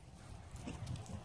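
A dog whines faintly outdoors during a family game of fetch at Thanksgiving, a thin, wavering whimper rising out of low background rumble for about a second.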